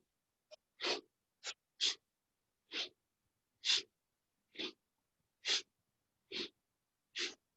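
A series of about ten short, sharp breaths in a breathing exercise, quick audible inhales and exhales in an uneven rhythm, close and clear against silence.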